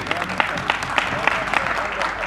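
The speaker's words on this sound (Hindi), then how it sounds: "भरपूर तालियां होनी चाहिए" An audience gives scattered rhythmic applause at a mushaira poetry gathering in Portsmouth, claps crackling over a murmur of voices.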